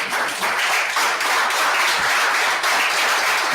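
Congregation applauding during a church sermon, dense continuous clapping from a crowd that fills the whole stretch, loud and steady.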